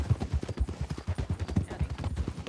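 Horse hooves clip-clop at a steady trotting rhythm in Red Dead Redemption 2, close and fairly quiet, with a faint voice occasionally beneath.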